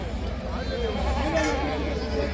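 Goats bleat amid the steady crowd noise of a busy livestock market, with sheep also present, their calls rising briefly over a constant din of voices and activity.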